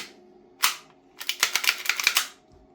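An airsoft pistol slide, a custom TTI TP22, is slid back onto the frame: one sharp plastic-metal clack followed by a quick run of rattling clicks, close and fairly loud.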